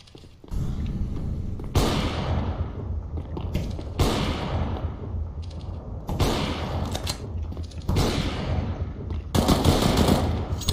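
Gunfire in a Counter-Strike: Global Offensive match comes as repeated automatic bursts and single sharp shots at an even pace over about ten seconds, with faint game background between them.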